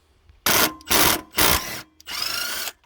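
A power tool backs out 13mm bolts from a Jeep Grand Cherokee 4.0 inline six power steering pump. It whirs in three short loud bursts and then one longer run, close up, with silence between them and no talking.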